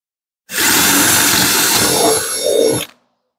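A power drill whirs loudly and steadily for a couple of seconds up close, drilling holes in wood, its pitch dipping slightly near the end before it stops.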